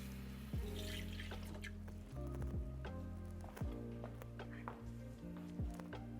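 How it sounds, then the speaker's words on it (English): Water running from a kitchen sink tap into a pot, heard as a soft, uneven trickle and splash under low background clatter. "Let me get some water."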